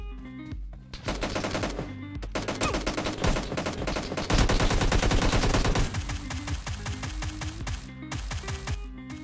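Rapid gunfire from the PC game PUBG PC Lite, dense bursts of automatic shots with layered loud reports and music, continuous and strong across the whole stretch, with no talking.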